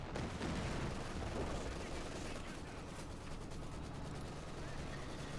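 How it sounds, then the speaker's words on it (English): Mortar blasts and bursts of enemy machine-gun fire rattle through a Company of Heroes 2 battle, dense overlapping gunfire and thuds with a voice talking over the combat. "the mortar fire, and of course the enemy machine guns"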